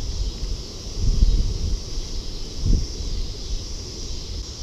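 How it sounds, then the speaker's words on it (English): Steady rushing wind buffets the microphone at a river while bass fishing, with two heavier gusts swelling in the low rumble; no voices. "It's super windy."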